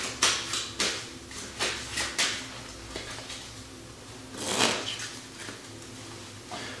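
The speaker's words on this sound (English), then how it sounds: "give the card a shuffle" A deck of cards being shuffled during a card magic demonstration, with a quick run of crisp riffling bursts followed by a pause and one longer riffle, close and clear.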